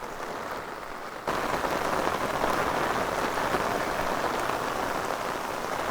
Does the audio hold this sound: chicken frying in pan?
no